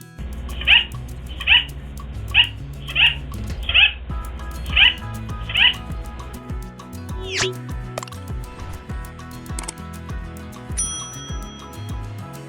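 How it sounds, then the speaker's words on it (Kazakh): A parrot gives a run of seven sharp, evenly spaced squawks, loud and close, followed by softer scattered calls and clicks over a steady background. "Бұл тоты құс."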